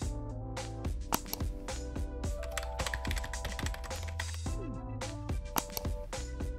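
Rapid typing on a computer keyboard, with close, steady clicking keystrokes over a soft musical background.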